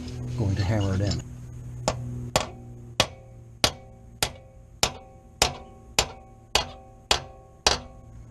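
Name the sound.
hammering in a screw extractor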